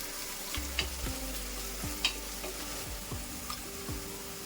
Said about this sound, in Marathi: कांदा ब्राऊन होईपर्यंत आपल्याला तळून घ्यायचा आहे.